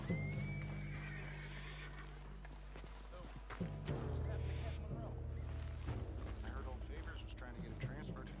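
A horse neighs with a rising whinny in the video game Red Dead Redemption 2, set over game ambience with hoof clops and low background sounds while someone talks throughout.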